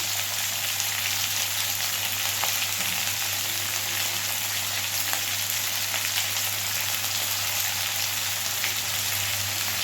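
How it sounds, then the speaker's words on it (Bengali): Fish frying lightly in oil for a thin Bengali fish curry, a steady dense sizzle and crackle holding evenly throughout with a constant low hum underneath, no voices. "যেহেতু পাতলা মাছের ঝোল, তাই খুব বেশি লালচে করে ভাজার দরকার নেই"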